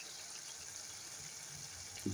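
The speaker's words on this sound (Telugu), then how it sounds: "ఇప్పుడైతే కొద్దిగా వాటర్ వేసుకొని కలుపుకోండి ఫ్రెండ్స్." Water is poured into an egg curry in a home kitchen, a steady faint trickling stream with no talking.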